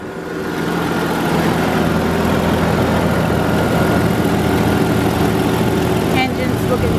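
A 1998 Jeep Grand Cherokee with a 4.0 engine, 4x4 and about 193,000 miles, idles at a salvage yard with a steady, close, loud rumble throughout, a voice briefly heard near the end.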